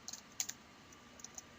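Faint keystrokes on a computer keyboard while scripting in E-Prime 2.0, a few scattered light clicks in two small bursts over a quiet room hiss.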